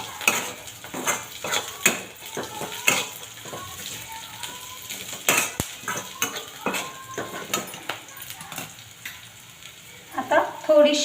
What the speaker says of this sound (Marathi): आता आपण जे परतून घेतलेले बटाटे आहेत ते त्याच्यामध्ये टाकून घेऊया आणि ते देखील चांगल्या पद्धतीने हलवूया